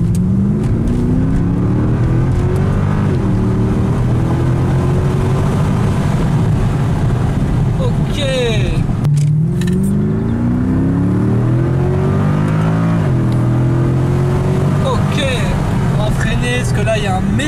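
A Mercedes C63 AMG accelerating around a roundabout, its engine note rising through repeated revving sweeps with gear changes, heard loudly from inside the car while people talk over it.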